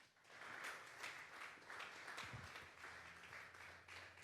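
A church congregation applauds during a Sunday service, a steady, dense wash of many hands clapping at an even level throughout, soft and somewhat distant.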